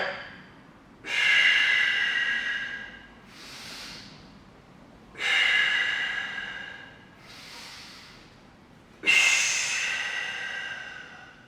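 Deep, audible breathing during dying-bug core exercises in an active recovery workout: three loud, hissing inhales or exhales alternating with softer breaths, in a slow, even rhythm, close to the microphone.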